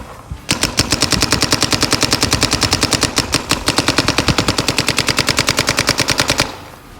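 A Planet Eclipse Geo 4 paintball marker fires in semi-auto on a 10.2 NXL ramp, a rapid, even burst of sharp pops for about six seconds, close and loud, then stops abruptly.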